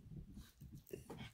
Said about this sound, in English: Apologize about the dog.